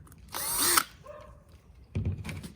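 A power drill bores through a homemade beach fishing rod holder, giving one loud close whirring burst that winds down, followed by a short mechanical rattle and a second brief drill burst.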